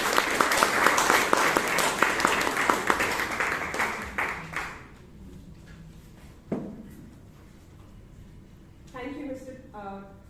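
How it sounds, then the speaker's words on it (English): An audience at a Toastmasters club meeting in Bangalore gives a round of applause that is dense at first, then thins out and stops halfway through, leaving a quiet room with a few scattered sounds and a voice starting to speak near the end. "Can you have a round of applause?"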